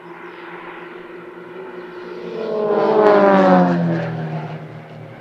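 Aircraft of the Falcons aerobatic team sweep past at the Leszno airshow while splitting apart in the Hashemite break, their engine roar building from a distant drone to a loud peak and then sliding lower as it fades.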